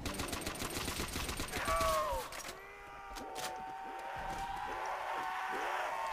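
A trench gun blasts away in a Call of Duty custom zombies map, rapid shots clattering amid game noise, then quieter sporadic sounds as a tone sweeps; a voice talks faintly underneath.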